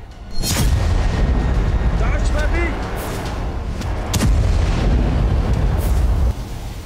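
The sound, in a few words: nuclear bomb explosion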